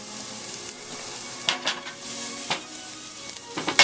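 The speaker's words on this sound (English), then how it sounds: "we're going to take our garlic, dump it in there" Minced garlic dropped into hot oil in a pan for spaghetti alle vongole, giving a steady close sizzle with a few sharper crackles and light spoon-and-pan scrapes as it is stirred.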